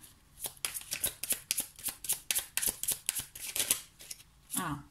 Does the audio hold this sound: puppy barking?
no